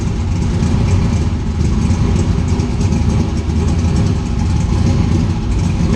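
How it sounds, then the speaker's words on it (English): A car engine idles steadily after a carburetor adjustment, a loud close low rumble with an even, unbroken texture. "I haven't touched the gas and it's idling."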